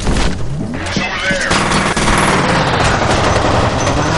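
Loud, relentless automatic gunfire in the video game F.E.A.R. Perseus Mandate, a dense continuous barrage of rapid shots and heavy blasts that fills the whole stretch without pause.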